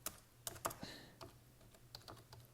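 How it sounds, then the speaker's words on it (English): A password is typed on a Chromebook keyboard, producing a quick series of soft, close key taps in an irregular rhythm, heard alone. "I am now on the computer, and I'm typing in the password"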